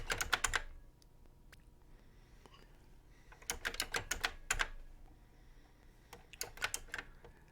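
Bursts of rapid typing on a Tandy Color Computer keyboard, close and crisp, coming in three clusters separated by quieter pauses with faint background noise.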